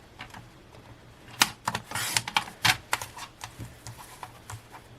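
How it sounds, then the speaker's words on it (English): Paper being trimmed for a planner page: a quick run of crisp snips and cutting clicks, close and fairly quiet, bunched in the middle and then tapering into lighter, sparser clicks. "So we're just going to trim this down to the bare minimum."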